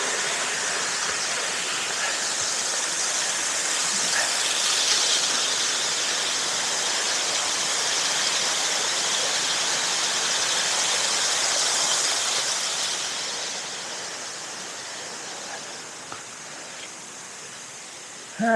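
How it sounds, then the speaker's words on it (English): A waterfall roars at a creek crossing on a mountain ridge trail race course near Juneau, a steady, dense rushing wash that holds loud and close, then eases slightly toward the end, with no talking. "Next stop, the waterfall crossing. I can hear it, I think."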